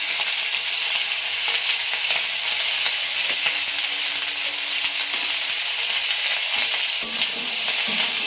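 Chunks of elephant yam sizzle in a pan of hot oil, a steady close bright frying hiss with faint stirring scrapes throughout and no talk.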